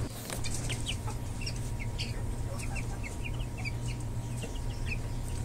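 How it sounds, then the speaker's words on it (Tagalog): In a backyard, Silkie chicks and chickens cluck and cheep in short, scattered bursts over a steady low background rumble, with the birds sounding fairly close. "Ang kukulit talaga ng mga sisiw na to."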